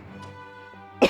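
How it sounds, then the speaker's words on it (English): A single short cough bursts out near the end, loud and close, after a stretch of quiet hum. "I had to cough"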